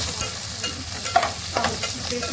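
Onion or carrot is stir-fried for Hakka noodles, sizzling loudly and steadily up close while a spatula scrapes and tosses the pieces in a few quick strokes.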